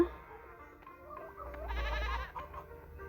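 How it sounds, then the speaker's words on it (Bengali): A young goat kid bleats close by, a wavering cry swelling in the middle, over faint background noise with no talk. "তো ছাগল ছানাটা আমাকে বেশি ডিস্টার্ব করে আর কি।"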